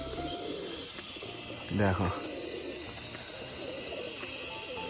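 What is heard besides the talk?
pigeons cooing during a display flight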